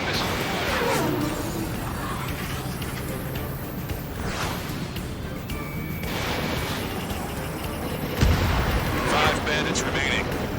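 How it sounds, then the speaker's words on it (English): Ace Combat 7 aerial combat with a missile launch and explosions: dense, continuous roar of jet and weapon noise throughout, with a heavier low boom near the end, under faint radio chatter. "Strider 3, launching missile."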